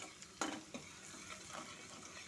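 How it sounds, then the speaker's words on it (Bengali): A spice paste of salt, turmeric and green chili fries in oil in a pan, giving a soft, steady sizzle with a couple of sharp scrapes and clinks of a utensil early on, up close. "লবণ, হলুদ, কাঁচা লঙ্কার সাথে ভালো মতো করে তেলের মধ্যে মশলাটা কষে নেব।"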